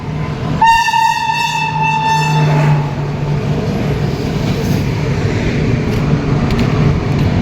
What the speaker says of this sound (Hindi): और ये कोई पैसेंजर ट्रेन है गाइस